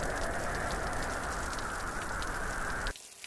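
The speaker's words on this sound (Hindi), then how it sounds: "कुछ ही देर में घनघोर बारिश शुरू हो जाती है" Heavy cartoon rain pours down in a dense, loud, continuous hiss with no pauses, ending abruptly near the end.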